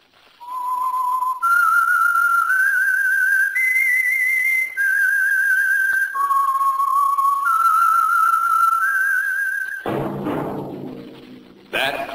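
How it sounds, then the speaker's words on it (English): A single whistler carries a slow, wandering melody of sustained notes as the theme signal of The Whistler radio drama, loud and close, breaking off into a short noisy burst near the end. "That whistle is your signal for the Whistler."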